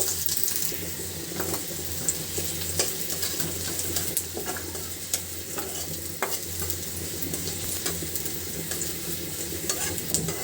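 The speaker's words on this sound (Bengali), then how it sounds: "এই তেলের ভিতরে দিয়ে দিচ্ছি পেঁয়াজ। পেঁয়াজটাও ভাজি করে নিব।" Onions frying in hot oil in a pan while cooking a Bengali pabda fish curry with tomato, giving a steady, low sizzle throughout with occasional light scraping clicks of a utensil.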